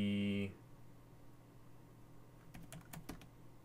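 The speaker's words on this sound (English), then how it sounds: "I'll type in the delay" Computer keyboard typing: after a brief loud tone cuts off, a short quiet burst of several rapid close key clicks arrives near the end over low hum.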